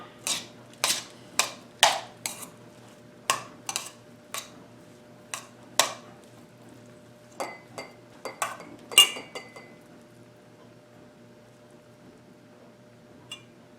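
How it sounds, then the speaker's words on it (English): Spoon stirring veggie sushi bowl ingredients in a bowl, with a dozen or so crisp utensil clinks against the dish, quick at first, then sparser, fading into quiet near the end. "I'm going to take these pieces and kind of stir them in."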